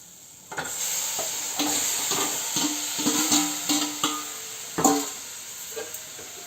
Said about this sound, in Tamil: அடுப்பை சிம்மில் வச்சுட்டு லைட்டாக வணக்கி விட்டுக்கலாம்